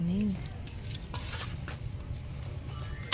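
Spoon stirring a creamy mixture in a bowl right after condensed milk goes in, soft scraping and clinking strokes close by, with a brief voice at the start.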